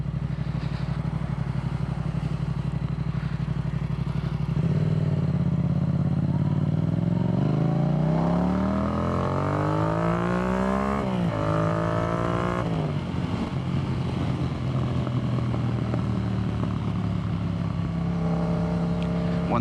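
A Yamaha MT-07 motorcycle fitted with an Akrapovic carbon exhaust idles with a deep throb, then revs up in rising sweeps, drops back, and settles into a loud burbling idle, close by.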